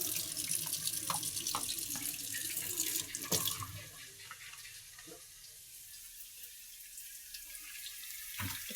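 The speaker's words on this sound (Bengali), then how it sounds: "সুপটা আমার ভালো করে ধুয়ে পরিষ্কার করে নেওয়া হলো।" A steel pot is rinsed under a running kitchen tap, the water splashing and gurgling against the metal and then easing to a steadier, softer trickle.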